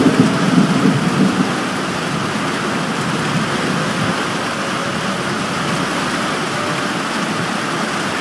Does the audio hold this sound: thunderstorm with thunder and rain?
yes